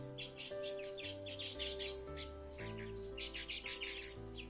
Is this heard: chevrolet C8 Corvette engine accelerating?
no